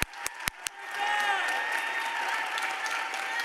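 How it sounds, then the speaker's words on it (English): Applause at an AAPI Heritage Month celebration honoring a community service award recipient: a few sharp separate claps open, then a softer, steady spread of audience clapping continues. "please give her a round of applause"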